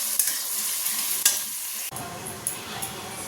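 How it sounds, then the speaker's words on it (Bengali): Vegetables sizzle in hot oil in a kadai wok, a bright steady hiss broken by scraping stirs and a sudden shift midway as the frying sound changes, close by with no speech. "এখানে কড়া বসিয়েছি। সবজিগুলো ভেজে নিই"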